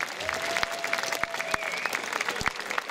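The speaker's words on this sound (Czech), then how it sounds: "Přátelé, takhle se jásá." A festival crowd at a banjo jamboree in Čáslav cheers and claps after a band's last set, dense applause with scattered sharp claps and whistles, loud and close, rolling on steadily throughout.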